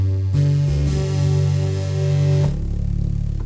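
A small Korg synthesizer preset holds thick, layered sustained notes that change pitch a few times, then cuts to a buzzier chord at the end; no talking.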